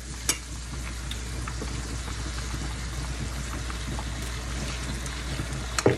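A 23.5-ounce jar of spaghetti sauce being mixed in a pan for lasagna, giving a steady, close sizzle with soft stirring and scraping throughout, with no talking.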